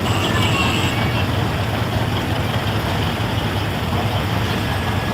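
Tractors, including a hay baler, rumbling past at the 2024 Tecumseh Bicentennial Parade, a steady, loud diesel engine drone close by with no clear breaks, and talk from nearby voices.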